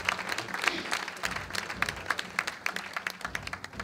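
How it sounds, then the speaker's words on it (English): Applause from the audience for award winners at a 25th anniversary luncheon, a steady patter of many hands clapping through the whole stretch with no talk over it. "Could we have a round of applause for the winners?"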